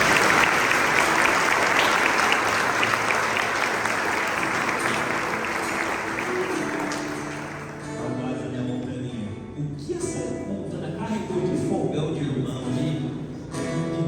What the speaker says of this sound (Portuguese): Aplauda forte Jesus, o nosso Deus.